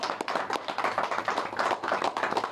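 A crowd at a Rotary leadership installation claps steadily and densely for 2.6 seconds, a close, continuous patter of hands with no voices over it.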